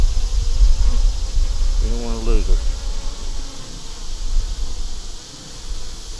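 Honeybees buzz steadily around an open beehive during a hive check, a continuous insect hum with a person speaking briefly over it partway through.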